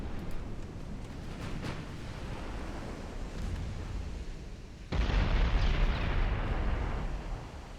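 Warship secondary guns firing in a naval battle at Singapore, with a 1904-era fleet engaged, dull booming shots rolling under a low rumble, then a sudden heavier surge of sustained blasts and roar.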